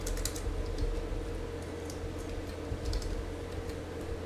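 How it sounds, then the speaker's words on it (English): Soft, scattered keystrokes on a computer keyboard tap faintly over a constant low engine drone inside a flight simulator cockpit session, with no talk. "We still have to type into BushTalk, so we can do that here."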